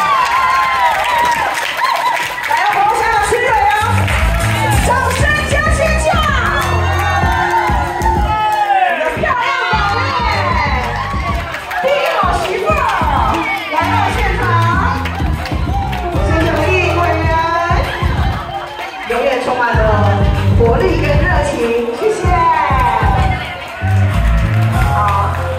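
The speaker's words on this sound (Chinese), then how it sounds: "可是掌声不够大声。" A crowd at a Mother's Day-style event in Kaohsiung's Changming shopping district cheers, whoops and claps loudly and continuously, with children shouting and voices mixed into the din throughout.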